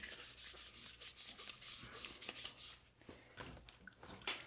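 Wet sandpaper rubbed by hand over an aluminum part from a vintage motorcycle, a close, steady series of gritty back-and-forth rasping strokes with brief pauses between passes.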